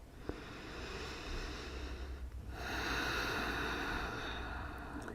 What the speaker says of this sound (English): So nice deep inhales and exhales